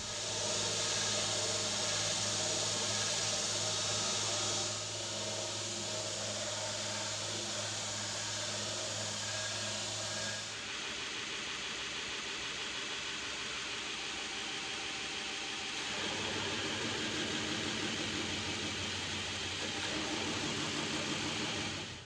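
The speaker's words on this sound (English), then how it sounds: "with the grinder turned down to about half speed and tracking the belt just over the edge of the platen" Belt grinder running at about half speed while grinding an integral Damascus steel kitchen knife blade, a loud steady whirring hiss lasting throughout, with shifts in tone as the blade meets the belt and eases off, no talk.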